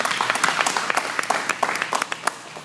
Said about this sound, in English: Let's give Sister Krystal another round of applause